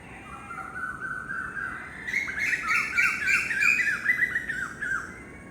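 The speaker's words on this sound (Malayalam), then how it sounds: "കോഴി കൂകുക, പക്ഷി ചിലയ്ക്കുക" Birds call and chirp together at dawn on Kadmat Island in Lakshadweep, a busy layered chorus of squawks and tweets that builds louder halfway through over a soft background hiss.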